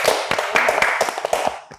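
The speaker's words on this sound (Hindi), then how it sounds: "बेहतरीन, इस पे तालियां।" Studio applause on a morning current-affairs talk show, a brief burst of individual, distinct claps from a small group that fades out after under two seconds.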